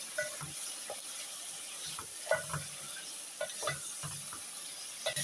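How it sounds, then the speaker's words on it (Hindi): Meat frying with onions in a pot for a Pakistani palak gosht (spinach and meat) curry, a steady soft sizzle broken by scraping stirs and occasional louder clatters, close up with no talking. "प्याज के साथ हम गोश्त को फ्राई करते जा रहे हैं।"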